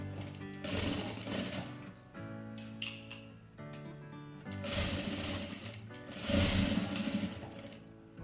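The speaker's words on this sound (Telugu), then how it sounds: "ఇప్పుడు కుట్టేసేసుకుంటే సరిపోతుంది" A sewing machine stitching the shoulder seam of a long frock, running in steady motorized bursts with rapid needle chatter, briefly pausing and restarting, close and fairly loud with no talk.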